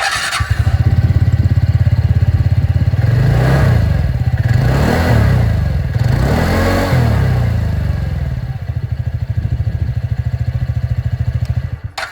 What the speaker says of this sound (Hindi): तो एक बार जो एग्जॉस्ट साउंड है वो भी आप लोग सुन लीजिए।